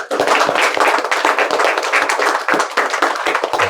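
Loud, dense audience applause fills the whole stretch, many hands clapping together at a motivational session on discipline, with no talking over it.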